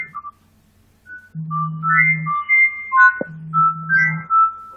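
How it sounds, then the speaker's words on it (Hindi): A mobile phone ringtone goes off in a lecture hall during a civil engineering class, a melodic electronic tune of sustained tones and short beeping notes, clear and fairly close, playing alone after a brief pause. "इसका फोन है, please switch off your phones."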